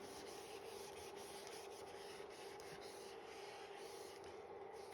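A board is rubbed and wiped in a quiet room, giving a faint, steady scraping swish that runs unbroken for the whole stretch, with no talking.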